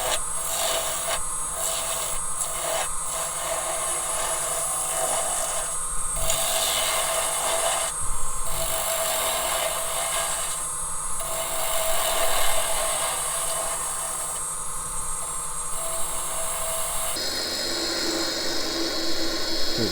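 A yew goblet spins on a wood lathe as a tool cuts and rasps against the wood, a continuous loud whirring hum with rhythmic scraping passes, close up and without speech.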